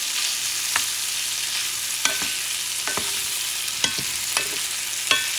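Shrimp frying in a hot pan, a steady close sizzle with scattered sharp crackles and pops throughout.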